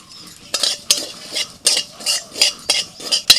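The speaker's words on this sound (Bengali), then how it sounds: "এক চামচ পোস্ত শুকনো কড়াইতে একটু ভেজে নেব" A spoonful of poppy seeds dry-roasting in a dry pan (kadai), stirred with a utensil that scrapes the metal in a series of crisp, rhythmic strokes close by.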